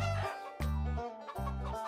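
Cartoon hens clucking on a farm, three loud, close, rhythmic bursts of low throaty clucks with brief gaps between them and no voices.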